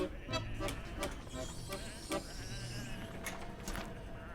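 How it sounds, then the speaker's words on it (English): Sheep bleating in the Whateverland game, several short nasal bleats overlapping in a loose irregular rhythm, fairly close and clear over a low background. "Come on, these are just sheep."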